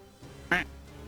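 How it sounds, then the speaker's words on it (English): A single short, loud duck quack in the video game Metaphor: ReFantazio, sounding alone over quiet background ambience. "thank you for the quack"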